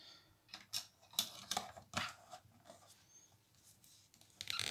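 Plastic action figure joints clicking in a rapid run of small, dry ticks and snaps while the figure is posed, close-up and fairly quiet, with no talking.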